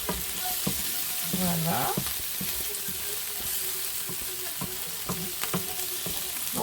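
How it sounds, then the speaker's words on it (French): Vegetables sauté in a hot pan with steady sizzling and frying crackle, broken by scraping stirs of a utensil; a voice briefly speaks over the cooking. "Regardez, les légumes, ils sautent."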